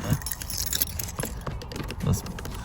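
Old-school car keys, used as a tool on a 1995 Jaguar XJ12, jangle and clink in a couple of bright metallic bursts, close by, amid light handling noise and faint background voices.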